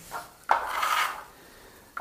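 A metal trowel is drawn across Venetian decorative plaster on a wall to polish it, making short, close, scraping swipes with a smooth gritty hiss, one long stroke between brief ones.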